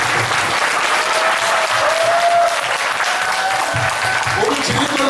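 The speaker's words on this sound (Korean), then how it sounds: "네, 박수." Sustained audience applause at a 2017 Bareun Party leadership candidates' debate, a dense, loud clatter of many hands that holds steady throughout, with a voice speaking briefly over it toward the end.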